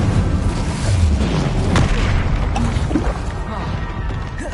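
Incendio fire spell cast in Hogwarts Legacy, a loud, dense whooshing burst of flame and booming impact rolling on close up over a rumbling game soundscape.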